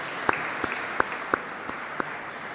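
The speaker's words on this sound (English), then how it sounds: "And we can make a clap" Scattered single handclaps at an online awards ceremony for green building solutions, about six sharp claps spaced unevenly over a faint steady hiss, with no crowd swell.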